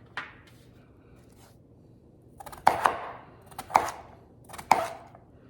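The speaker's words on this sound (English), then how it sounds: "So I just cut those the size I like." Sweet potatoes are sliced into thick fries with a knife on a cutting board, giving a few crisp, separate chops after a quiet start.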